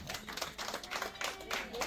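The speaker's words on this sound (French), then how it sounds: "Applaudissez pour elle." Applause at a birthday tribute: a small crowd clapping in a room, quiet and steady, with irregular bursts of hand claps and faint background voices.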